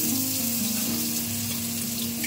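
Diced potato frying in a couple of spoons of hot oil for a Bengali banana-stem (thor) dish, a steady close sizzle that runs without a break and without any voices.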